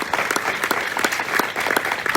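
Loud, sustained clapping comes from a church congregation during a sermon in Faisalabad. Many hands beat in an uneven, rippling rhythm that stays strong throughout.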